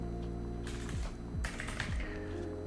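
Fast clicks of a computer keyboard come in a brief burst of typing, close and clear over a low steady hum.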